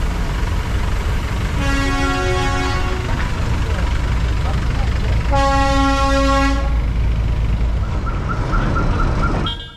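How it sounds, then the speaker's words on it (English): A Darjeeling Himalayan Railway train sounds its horn in two long, steady blasts, the second slightly longer, over a constant loud rumble of the moving train, with a fainter high tone near the end. "To cross a road, the train just blows its horn, lots, and the cars usually stop."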